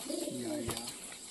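A pigeon shut inside a bag gives a soft, close coo, a single short warbling call rising and falling over about a second, heard alone.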